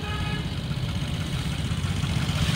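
A 2013 Vespa LX 125 fuel-injected scooter engine idles close by, a steady, smooth low-pitched putter with an even rhythm and no voices.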